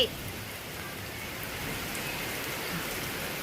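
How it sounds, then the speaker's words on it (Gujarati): Heavy rain drums steadily on surfaces in a close, even hiss with scattered distinct drops and no voices. "વરસાદ પણ ફૂલ ચાલુ થઈ ગયો છે"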